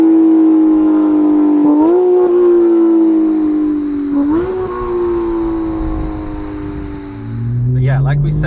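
A Porsche GT3's engine revs high and strained, climbing in pitch, dipping briefly, then climbing again as it pulls hard, loud and close, before the note drops away near the end.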